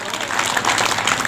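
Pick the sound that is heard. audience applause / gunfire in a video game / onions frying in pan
audience applause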